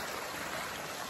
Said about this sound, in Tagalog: ito po yung lagaslas ng tubig